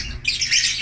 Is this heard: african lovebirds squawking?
yes